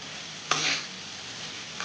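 Ginger paste goes into hot oil for a rohu fish curry with drumsticks. A sharp burst of hissing sizzle settles into a low, steady fry, close by and free of voices.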